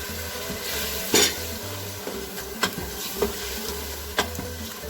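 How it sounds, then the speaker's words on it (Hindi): Blended onion frying with spices for beef paya, a loud steady sizzle with occasional metal spoon knocks and scrapes against the pot, close up with no talking. "अब तकरीबन 2 से 3 मिनट तक मैं प्याज को भूनूंगी इसमें"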